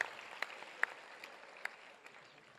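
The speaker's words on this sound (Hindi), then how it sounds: "और जोरदार तालियों से आप इसका स्वागत करें।" Audience at a Kolkata Holi poetry gathering applauding to welcome poet Sandeep Sharma, soft and distant, steady clapping with a few sharper individual claps standing out.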